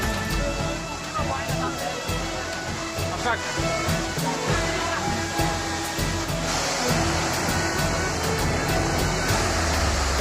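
Waterfall on the Napittachora trail rushes in a constant broad roar heard from above, with someone talking over it throughout.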